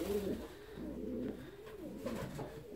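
Fancy ornamental pigeons coo in a loft, a steady run of rolling, low, throaty coos repeating every half second or so, close and clear with no talk.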